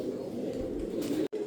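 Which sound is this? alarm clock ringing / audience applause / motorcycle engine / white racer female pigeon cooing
white racer female pigeon cooing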